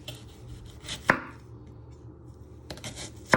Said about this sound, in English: So you first want to chop it in half, then you just want to slice it.